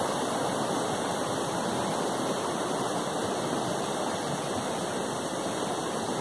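Steady, full rush of clear creek water flowing over rocks at a crossing near West Stony Creek on the Northville-Placid Trail, continuous and close, with no voices.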